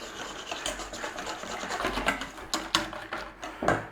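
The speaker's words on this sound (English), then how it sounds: "Grab your whisk, and we want a nice smooth silky base." Lemon filling with fresh lemon zest being whisked in a bowl, a steady scraping, rubbing rhythm with sharper clicks toward the end, close and fairly loud, with no talking.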